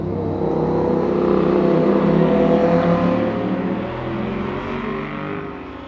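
Peugeot 103 moped fitted with a 70cc Malossi kit, heard while being ridden: a steady, loud two-stroke engine drone that holds a constant pitch throughout and eases off slightly toward the end.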